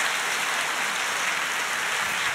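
A church congregation applauds during a Sunday service, a dense, even wash of clapping at moderate volume with no speech over it.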